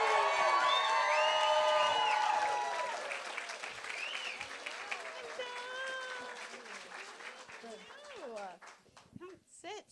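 Audience applause and cheering at a live music artist event, loud clapping with whoops and raised voices at the start that fades over several seconds, with voices chattering and calling out as it dies down.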